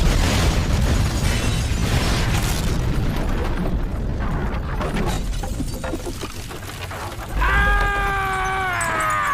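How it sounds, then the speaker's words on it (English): A fiery explosion erupts from a burning gas trail in the video game GTA V: loud, sustained broadband roaring and crackling for about seven seconds, then a bright tonal game sound cuts in over the lingering rumble. "we get to shoot the trail and watch it all burn, making sure to not look back at the explosion as we walk away."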